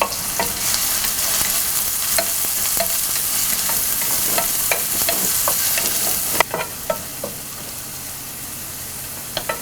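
Small shallots and garlic with salt sautéing in a pan for a jackfruit seed stir fry, a steady close sizzle with repeated scraping clicks of a spoon stirring, loud at first and settling slightly quieter later, with no talk.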